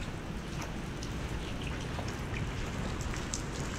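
Heavy rain pours steadily at an outdoor construction site, a dense even wash of drops close by with scattered louder patters on nearby surfaces.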